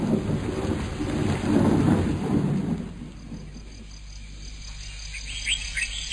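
Heavy rain falls with rolling thunder that swells and fades, leaving steady rainfall and a layer of insect chirping.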